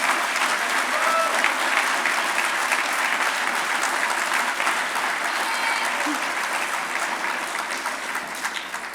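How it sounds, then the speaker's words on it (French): Sustained applause from an audience at a 2022 graduation ceremony, honouring the graduating committee: dense, steady clapping that fills the room and fades slightly toward the end. "s'il vous plaît, une bonne main d'applaudissement pour mon comité de finissants"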